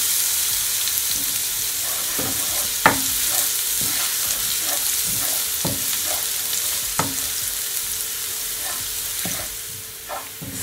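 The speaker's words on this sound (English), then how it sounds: "So now that it is all sauté and it is nice and brown, my garlic" Garlic sautés in hot oil with a steady loud sizzle while a utensil stirs it, giving occasional scraping knocks against the pan; no voices.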